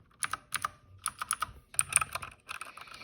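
Rapid, uneven keystrokes on a mechanical computer keyboard, crisp and close-up, arriving in short bursts and clusters with brief pauses and no voices.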